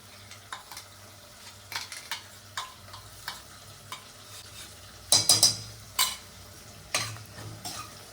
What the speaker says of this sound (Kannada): ಇದು ಹಸಿ ವಾಸನೆ ಹೋಗೋವರೆಗೂ ಫ್ರೈ ಮಾಡ್ಕೊಳ್ಳೋಣ